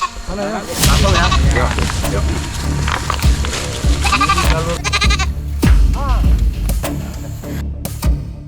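A goat bleats repeatedly, used as live bait to lure a tiger into a trap in Sumatra, with wavering cries rising over steady outdoor background noise and some human voices.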